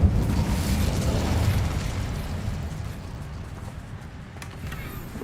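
An Incendio fire spell cast in Hogwarts Legacy, a loud burst that swells into a roaring, crackling whoosh and slowly fades across a few seconds.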